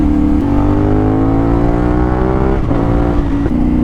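A CF Moto 450SR motorcycle fitted with a loud Akrapovic exhaust revs hard and close, its engine note climbing steadily in pitch, briefly dropping, then rising again, loud and unbroken throughout.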